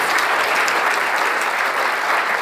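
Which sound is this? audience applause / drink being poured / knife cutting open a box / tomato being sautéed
audience applause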